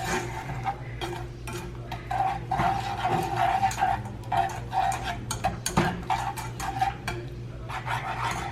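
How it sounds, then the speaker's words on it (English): A spoon stirs gelatin and melting butter in a pot on the stove, scraping the bottom in quick, steady, repeated strokes that carry on without a break, close and clear. "So you want to constantly stir it because you don't want your gelatin to get all like clumpy."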